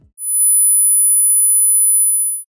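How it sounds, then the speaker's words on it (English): A pure 10 kHz sine wave test tone sounds alone for just over two seconds: a thin, piercing, very high-pitched steady whine that starts and stops abruptly. "And here's a 10 kilohertz sine wave."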